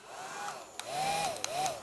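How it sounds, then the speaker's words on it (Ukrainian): A small fan whirs inside a battery-powered soap bubble gun from AliExpress, a brief close-up motor whine that rises and dips in pitch a few times with light clicks. "І в нас працює вже всередині вентилятор."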